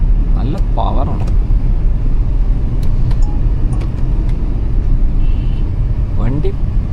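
A 2025 Tata Punch EV electric car drives smoothly along a road in Kerala, with steady low road and tyre rumble throughout and faint passing traffic in the background.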